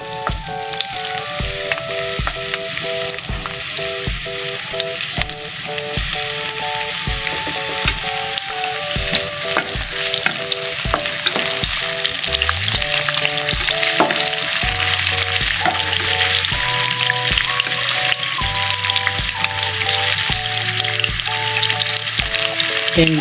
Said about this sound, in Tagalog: So, ilagyan na natin itong sibuyas,